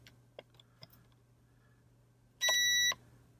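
An old Compaq VGA monitor gives a single short electronic beep when its button is pressed, sounding alone after a few faint clicks.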